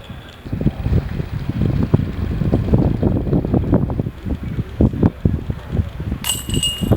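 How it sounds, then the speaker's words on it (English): Strong wind ripping across an outdoor disc golf course, a loud continuous gusting rush with buffeting on the microphone, heard alone. "You could also see that the wind is ripping"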